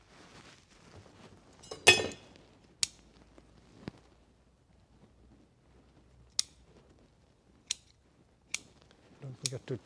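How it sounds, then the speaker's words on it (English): Scissors snip the tips of a Picea bonsai in sharp, isolated clicks spread across ten seconds, mixed with a brief rustle of foliage and quiet handling noises close by. "Don't forget to trim the tips."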